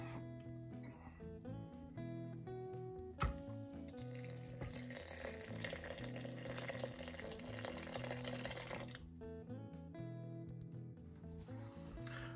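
Water pours steadily into sourdough bread dough for several seconds, faint beneath background music.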